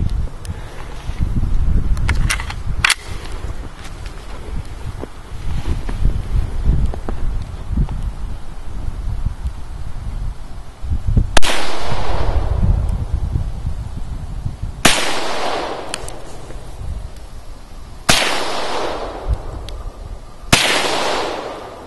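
Bursts of fire from a PPS-43 submachine gun, remanufactured by Pullman Arms, outdoors: several sharp loud volleys in the second half, ringing out over steady wind and rustle.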